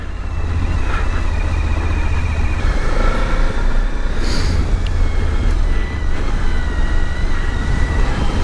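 Suzuki V-Strom 1050XT adventure motorcycle riding at speed down a country road, a loud steady engine drone blended with heavy wind rush, continuous and close with no talk.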